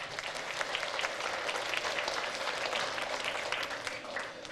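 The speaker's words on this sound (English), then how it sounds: "Give her a big round of applause" Schoolchildren in a classroom burst into a short, dense round of applause for a classmate's correct quiz answer, even, continuous clapping with no talk.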